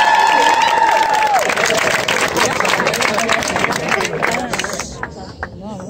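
Wedding guests under the chuppah break into applause and cheering, a dense burst of clapping with crowd voices mixed in that thins out toward the end.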